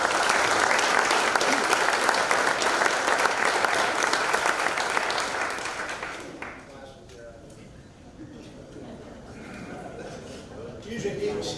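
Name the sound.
audience applause at induction ceremony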